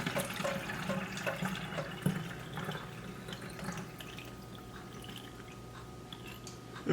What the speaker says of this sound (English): so we're gonna pour it in this spray bottle here